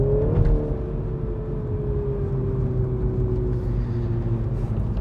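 Engine note of a MINI John Cooper Works F56 four-cylinder, played artificially through the cabin speakers, heard from inside the car as a steady droning hum with a gently falling tone and a constant low road rumble underneath.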